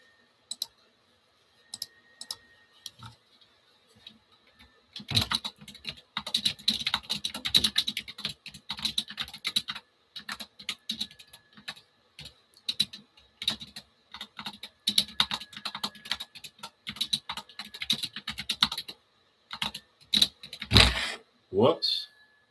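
Someone types a message on a computer keyboard in quick, irregular bursts of close, crisp clicks and taps, with a quiet stretch at the start and a few heavier knocks near the end.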